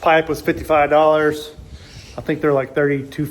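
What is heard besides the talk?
No distinct noise like a dog, phone or traffic.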